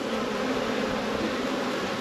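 Honey bees drone in a dense, steady buzz at an opened full-size hive being split into nucs, close up and continuous throughout.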